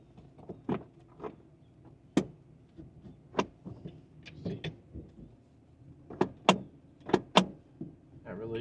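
The long-unused parking brake on a 1977 Oldsmobile Cutlass Supreme Brougham releases as a series of sharp, close mechanical clicks and clunks at irregular intervals over a quiet background.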